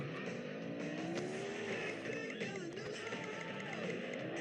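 A car in the Car Simulator video game drives with a continuous engine whine that rises and falls, with tyre squeal and skidding mixed in, steady and fairly loud.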